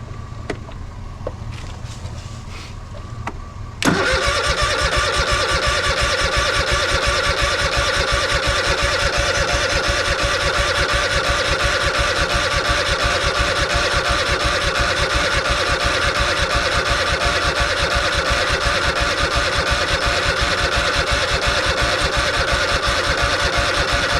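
An abandoned old Craftsman lawn mower, fed by a swapped fuel pump and carburetor, cranks and catches after a few seconds of fumbling, then runs steadily at a loud, even idle close by for the rest of the clip.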